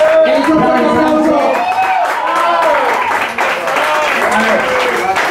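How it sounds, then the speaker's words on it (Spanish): An audience at a festive event in Sant Boi de Llobregat breaks into strong, sustained applause with cheering, while a voice over loudspeakers carries on above the crowd. "¡Es un fuerte aplauso!"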